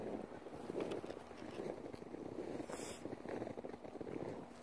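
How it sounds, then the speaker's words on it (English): Cold wind of about 10 mph gusting through an open clearing in a forest, a faint, breathy rush with soft buffeting surges and no voices. "it's also starting to get a pretty windy, kind of a cold wind, about 10 miles per hour."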